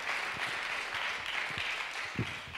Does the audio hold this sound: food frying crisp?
no